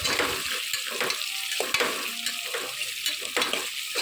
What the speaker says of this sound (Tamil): இப்போது ஃபைனலாக கருவேப்பிலை சேர்த்து இதெல்லாம் நல்லா வதங்கணும்.